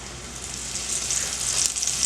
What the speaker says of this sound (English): I'm just gonna lay it in there